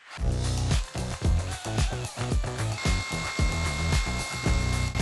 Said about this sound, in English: And now maybe it'll be much easier to drill.